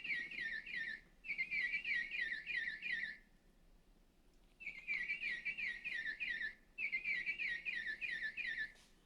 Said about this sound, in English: Does anybody know what the sound of the Baltimore Oriole is?